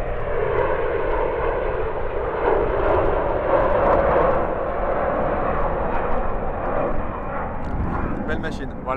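An Airbus Beluga cargo aircraft passes at Châteauroux airport with a loud, sustained jet roar that holds steady throughout and eases slightly near the end.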